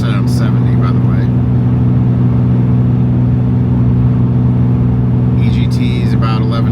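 Truck engine pulling hard up a snowy mountain grade after a manual downshift, a loud steady low drone with cabin voices speaking over it.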